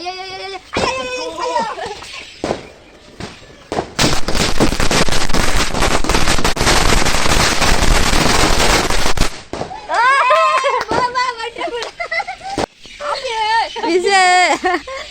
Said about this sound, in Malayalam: ഇപ്പൊ നമ്മളെ പടക്കം പെട്ടിക്കാൻ പോണു ഗൈസ്